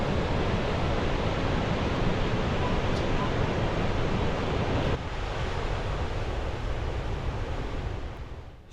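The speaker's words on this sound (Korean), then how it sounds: "시원한 물소리가 듣기 좋죠." Rushing water near an Icelandic volcano makes a loud, dense, continuous roar with no breaks, dipping slightly in level partway through and fading at the end.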